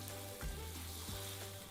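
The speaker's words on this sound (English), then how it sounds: "The garlic that we're about to stir fry will be blanched." Blanched young garlic stir-frying in a pan gives a short, close, steady sizzle with a couple of soft stirring knocks.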